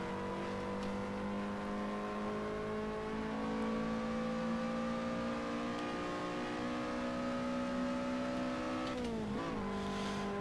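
A Lotus Elise engine lapping the Nordschleife in Assetto Corsa, a steady droning engine note holding pitch, then a sharp rev drop and rise near the end as gears change, continuous with no talking.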